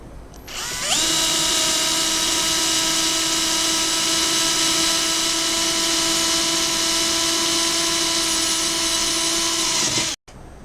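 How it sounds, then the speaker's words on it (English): A power drill whirs up to a loud, steady high-pitched whine as it bores through a galvanized metal pipe held in a vise for about nine seconds, then cuts off abruptly. "I have my hole drilled"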